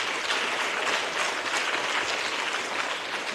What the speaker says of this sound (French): solliciter la chaleur de vos mains, tous ensemble ici présents, pour faire des applaudissements à la JCI Cotonou-La-Doyenne